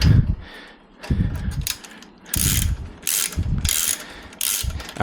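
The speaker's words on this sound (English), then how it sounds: "I'm going to get actually a 10mm on a extension socket" A ratchet on a 10mm extension socket tightens a pump mounting bolt in a cramped spot on a water trolley, giving several bursts of rapid close clicking with short pauses between strokes.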